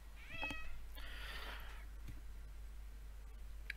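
A cat meows a couple of times nearby, soft and high over a constant low electrical hum, with small clicks around it.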